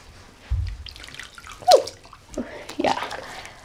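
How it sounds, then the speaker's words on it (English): A bathtub being filled with water and bubbles, with splashes and sloshing at close range and a voice speaking intermittently over the running water. "wash him. Fill it up with bubbles."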